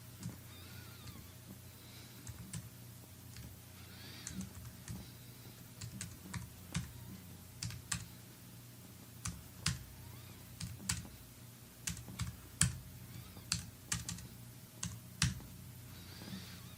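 Computer keyboard keys tapped while entering numbers in Maya 3D software, a quiet, irregular run of close clicks that grows busier toward the end, with no talk.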